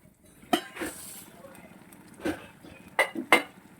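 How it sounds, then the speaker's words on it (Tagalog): A lid goes onto a cooking pot of Ilocano pakbet, giving several close metallic clinks and clatters in short bursts against a quiet kitchen background. "Ayan, takpan natin."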